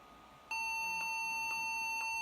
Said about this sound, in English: you're gonna hear the beep right now as soon as I start this laptop